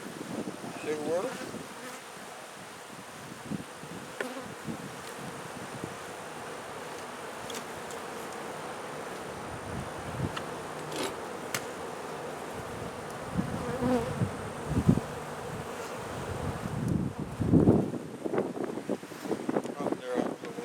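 Honey bees buzz densely and continuously around an open eight-frame beehive during a frame inspection outdoors, with wind noise on the microphone, occasional handling knocks and someone talking intermittently.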